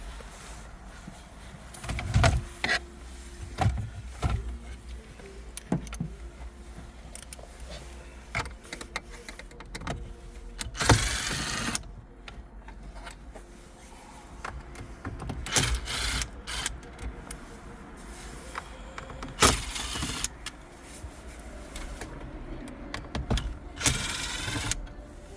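Screws being removed from the radio in a 2008 Hyundai Tucson dashboard, faint intermittent clicks, scrapes and clunks of a tool and loose parts at close range, with quiet gaps between, no talk.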